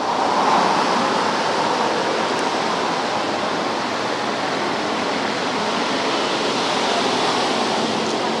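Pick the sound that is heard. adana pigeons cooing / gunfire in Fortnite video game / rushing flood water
rushing flood water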